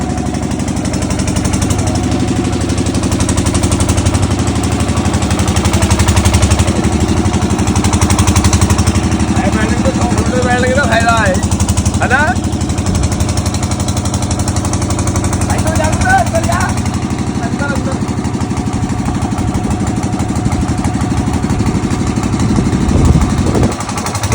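A tractor running a rotavator in a sugarcane field drones steadily nearby with a chugging, knocking engine note, while people talk over it at times.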